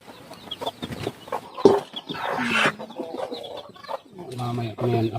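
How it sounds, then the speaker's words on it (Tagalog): Chickens cluck around a farmyard, with faint chick peeps among the louder hen calls and a brief burst of rustling noise; there is no clear talk. "Ito yung mga sisiw."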